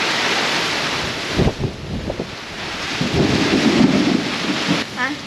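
Heavy rain pours down in a loud, steady broadband roar with gusty wind buffeting the microphone, while low rumbles swell and fade through the middle and a brief voice-like sound rises near the end.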